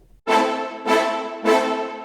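Three bright piano triads, played an octave higher, struck one after another at an even pace, each ringing and decaying, heard alone.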